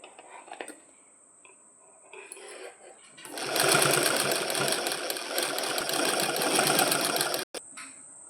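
A sewing machine stitches a frill onto a petticoat, running in a fast, steady rattling burst of several seconds before stopping abruptly. Soft handling noises come before and after the stitching.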